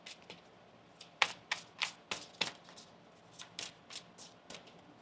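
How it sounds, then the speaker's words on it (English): A deck of tarot cards is shuffled by hand in a sequence of crisp riffling bursts, five or six sharp flutters close together and then a few softer ones. The sound is nearby and fairly quiet, with no talking. "One more shuffle."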